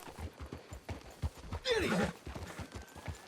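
Horse hooves clip-clopping steadily in Red Dead Redemption 2, a quick ongoing rhythm of close, light hoof strikes, with a horse's whinny rising briefly mid-clip and a short shouted voice over the top.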